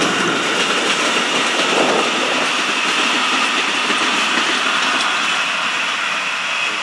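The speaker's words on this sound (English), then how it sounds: "Just like that, Brightline 500. Quiet, smooth, sleek. Right on by us going south." A southbound Brightline passenger train rushes past nearby with a steady, loud roar and a faint clatter of wheels on rails that holds throughout without letting up.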